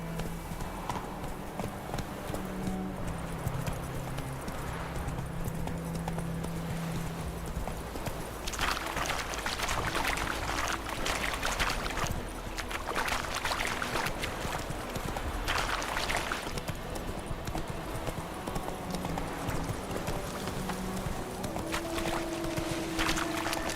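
The horse Roach walks with steady rhythmic hoof clip-clops in The Witcher 3, continuous and close over a constant outdoor game ambience, with faint talk at times.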